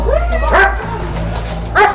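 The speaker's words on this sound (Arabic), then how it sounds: "هذا كلب فتشوا" Police dogs bark loudly and close during a surprise search, giving a few sharp barks and yips in a short burst.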